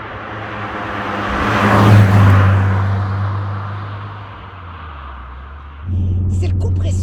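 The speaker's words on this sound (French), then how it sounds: "C'est le compresseur qu'on entend déjà là?" The supercharger of a Volkswagen Corrado G60 engine runs with a steady low hum and rumble, which swells briefly into a louder whirring rise and then settles, with people talking over it.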